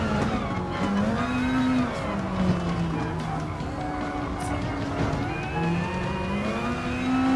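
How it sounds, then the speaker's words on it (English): A Group 3 race car engine in Gran Turismo Sport drones at a steady pitch as one car overtakes another. The tone rises and falls with each gear change, the engine noise is continuous and loud, and there is no speech. "I'm about to go and pass the Group 3 race car"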